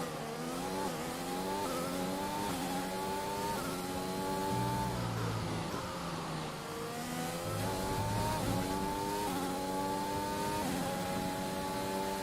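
Formula 1 race car in the racing game F1 2021, a high whining engine revving up and down through gear changes with deep dips under braking, steady and close with no talk over it.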